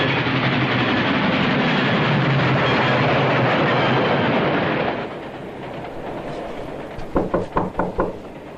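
Train running on rails in a 1957 film: a loud continuous roar of the moving train gives way to quieter running with a quick series of rhythmic clickety-clack wheel knocks near the end.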